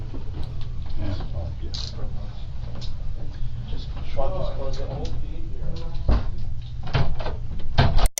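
A door swings shut with a muffled thud late on, amid steady low room rumble and faint, indistinct voices.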